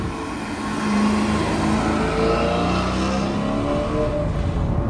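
A cheap used Maserati's engine revs loudly with a sustained, rising and falling tone. It sounds close and continuous, with no talking.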